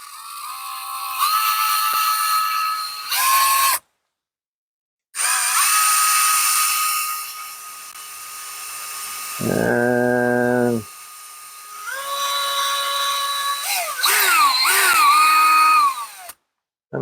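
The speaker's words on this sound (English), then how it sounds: "that will be all we're going to do as far as the drilling" A power drill whines in several bursts with short pauses between, the pitch rising and falling as the bit bites into driftwood.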